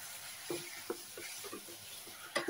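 Tomatoes go into a pan of browned, sizzling peppers and onions, giving a soft continuous sizzle broken by a few sharp clinks and scrapes of stirring, fairly quiet and close.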